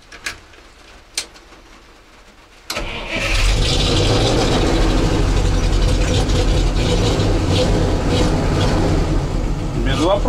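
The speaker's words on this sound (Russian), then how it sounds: "Сейчас я заведу Шишигу и попробуем включить его." A GAZ-66 truck engine cranks and catches after a couple of sharp mechanical clicks, then settles into a loud, steady rumbling idle close by.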